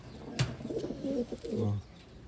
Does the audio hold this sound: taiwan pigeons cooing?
yes